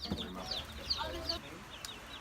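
Chickens cluck and chirp close by in short, repeated calls, with a voice faintly underneath.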